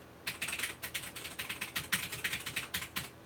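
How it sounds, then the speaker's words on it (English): Rapid, uneven keystrokes clatter on a computer keyboard, a close stream of crisp clicks in short bursts with brief pauses, alone and moderately loud. "You hear me typing in the background."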